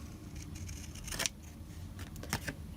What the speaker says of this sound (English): trim this, I'm actually going to use my Fun Stamper's Journey Grand Pro shears